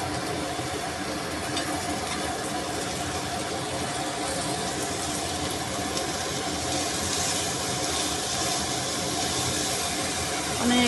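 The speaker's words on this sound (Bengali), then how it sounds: "আমি লাউয়ের খোসা ভাজি করতেছি" Bottle gourd peel frying in hot oil, giving a steady, dense sizzle that holds at an even level throughout without pause.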